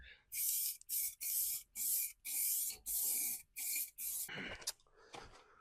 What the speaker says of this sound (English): Meanwhile, back down here, we'll give that another spray